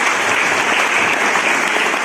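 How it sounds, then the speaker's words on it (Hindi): Students at a Narayana IIT-JEE/NEET coaching event clap continuously, a loud, dense, even roar of hands with no pauses or voices standing out. "तालियां लगातार बजाते रहिए"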